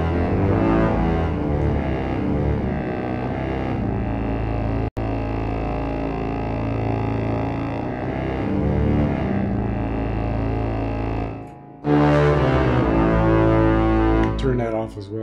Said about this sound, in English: here you see these two effects are being summed, the reverb and the mod effect